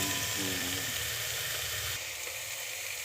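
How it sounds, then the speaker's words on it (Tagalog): A salmon head sizzles in a pan of sautéed garlic, onion, tomato and ginger. The close, continuous frying hiss eases slightly partway through. "Gisa lang natin saglit tapos lalagay na yung ulo ng salmon"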